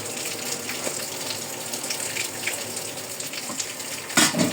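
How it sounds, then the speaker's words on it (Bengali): A steady stream of hot water pours continuously into a pot, close by, ending with a brief louder splash. "আজকে একটু গরম পানি দিব"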